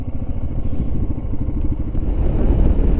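A motorcycle cruises along Iowa back roads, its engine a loud, continuous low throb with rhythmic pulsing, mixed with wind buffeting and swelling slightly toward the end.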